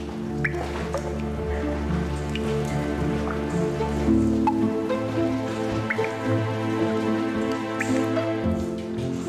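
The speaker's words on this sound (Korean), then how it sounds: "낙하하는 물방울들의 노래소리를 들으며 깊이 들어가 보면" Water droplets fall one by one inside an Icelandic cave where ice pillars grow from the ground, with scattered plinks and splashes over a steady low background, clear and moderately close.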